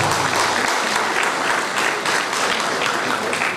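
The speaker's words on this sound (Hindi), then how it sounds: "आज उस क्षेत्र में बताने वाले हमारे मेंटर, हमारे गुरु मिस्टर अंजय सर के लिए एक जोरदार ताली चाहूंगा।" Loud, dense applause from an audience at a business speech fills the room steadily, many hands clapping together without a break and no voices on top.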